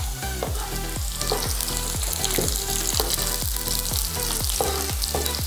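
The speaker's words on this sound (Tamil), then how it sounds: "எண்ணெய் சூடானதுக்கப்புறம் ஒரு 10 பல்லு பூண்டு நல்லா ஸ்லைஸாக கட் பண்ணி போட்டுக்கலாம்." About ten slices of garlic and four halved dried chillies frying in hot oil, a steady close sizzle broken by regular stirring strokes, with no voices.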